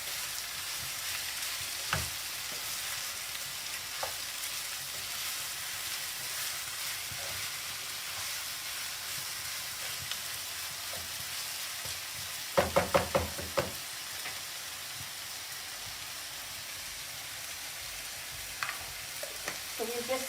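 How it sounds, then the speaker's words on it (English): Chicken searing in a hot pan gives a constant, dense sizzle throughout, punctuated by a few sharp knocks and clatters of a utensil against the pan near the middle and end. "So we'll just sear it a little and then cover it and let it cook for a little while."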